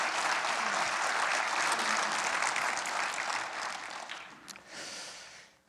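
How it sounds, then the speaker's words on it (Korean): A church congregation at Sunday worship applauds to welcome a guest preacher: a full, steady wash of clapping from many hands that fades out over several seconds. "박수로 맞아주시죠."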